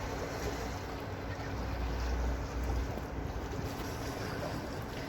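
A boat moves through a canal lock on the River Rea in Birmingham, with a steady low rumble and hiss of wind and water running evenly throughout, no one speaking.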